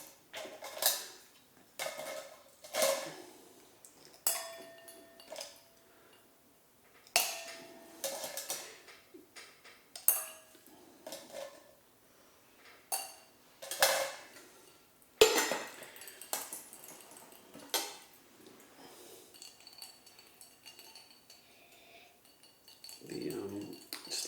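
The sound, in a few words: ice cubes clinking into a glass of Amberches gin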